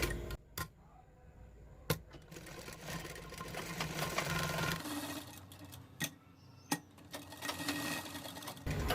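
A sewing machine stitches a coat collar with a steady close whir, punctuated by several sharp clicks and taps from handling the fabric and machine.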